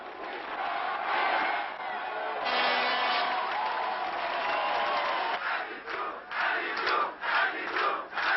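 A crowd in Paris cheers around a newly elected French president: massed shouting and chanting voices, loud and sustained, with surges and breaks toward the end as individual shouts and whoops poke through.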